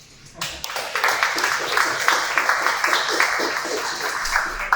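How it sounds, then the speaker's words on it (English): An audience at a game development conference talk claps and cheers, a dense burst of applause rising after a brief quiet start and continuing steadily at close range. "probably we need to wake up and cheer Sasha because she made a great job."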